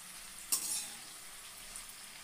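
A sudden crackle of potato slices from one large potato being turned in a hot pan, settling into a soft, continuous frying hiss with a faint clink near the end.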